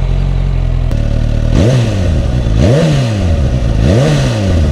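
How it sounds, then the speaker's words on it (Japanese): A Suzuki Katana motorcycle engine starts at close range and idles loud, then rises through three rhythmic revs, each climbing and falling back. "じゃあエンジンをかけてみますね。"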